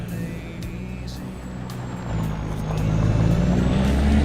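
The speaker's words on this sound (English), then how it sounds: "Gotta have the game sound on for the Tony trucks" Trucks in Farming Simulator 25 rumble with a low steady engine drone that builds slightly louder toward the end, with a few faint higher whines and hisses over it.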